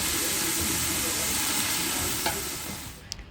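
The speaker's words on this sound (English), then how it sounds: "we'll add our onions, and I want to saute them until they're light golden." Onions sauté in olive oil in a pan for a braised beef chili, making a loud, steady sizzle and hiss that fades slightly near the end, close up, with no talk.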